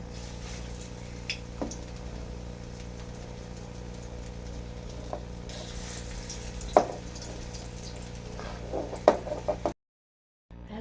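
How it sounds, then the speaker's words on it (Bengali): Bitter gourd fritters fry in very hot oil, giving a steady close sizzle and crackle with a few sharper spits and pops throughout. The sound cuts out abruptly near the end. "সাথে সাথে ভাজবো দেখুন তেলটা কিন্তু খুব গরম হয়ে গেছে"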